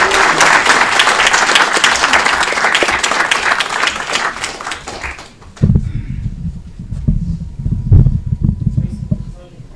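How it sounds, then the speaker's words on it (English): Applause from the audience at an Aurora city council meeting honoring a national champion, loud sustained clapping for about five seconds that then drops to room noise and low voices. "big round of applause for the national champ, Patrick Hilby."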